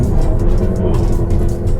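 A German dual-clutch crossover accelerates at full throttle from a standstill with front-wheel spin, its engine a loud, steady low roar that fills the whole stretch without letting up.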